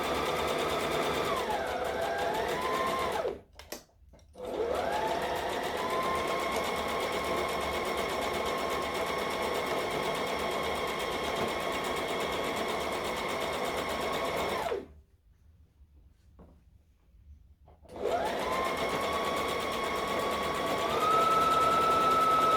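Close sewing machine stitches and back stitches a dress, a steady mechanical whir broken by two clear pauses, with the pitch rising and falling as the speed changes.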